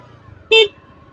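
A single short car horn honk, loud and close, sounding over a low rumble of city traffic in Kayseri, Turkey.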